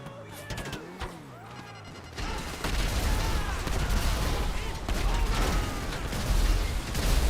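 Gunfire in the GTA video game, a rapid volley of loud shots and heavy impacts rattling over a dense, noisy game soundscape.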